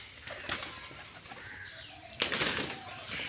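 Rajshahi Giribaz pigeons flying outdoors, with a few soft wing flaps and rustles, then a louder burst of wing clatter near the end over steady background noise.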